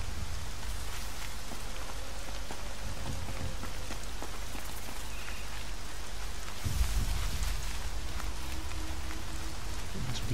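Rain pours steadily in the video game Horizon Zero Dawn, a dense continuous hiss of drops, with a heavier rumbling gust partway through.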